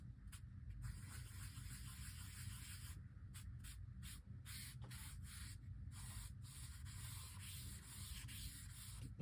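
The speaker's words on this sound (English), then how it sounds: "let's take our cotton pad, fold it up, and then let's apply some of that, that marker. Let's soften it." A folded cotton pad rubs marker ink across paper to soften a stroke, giving a steady, quiet scrubbing hiss with short pauses where the pad lifts.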